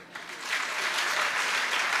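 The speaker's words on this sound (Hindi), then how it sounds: "तालियां" An audience breaks into loud applause at a religious talk, a dense, steady wash of clapping that swells quickly after a brief quiet start and holds strong for about two seconds with no voices over it.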